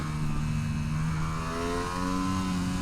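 Aprilia Tuono 660 motorcycle engine droning steadily while ridden along a twisty road, its pitch sliding up and down through gear changes, loud and continuous with no talk.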